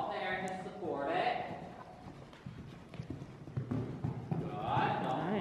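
Horse hooves clip-clop in a steady rhythm during a riding lesson, moderately close, with an instructor's voice talking over parts of the gait.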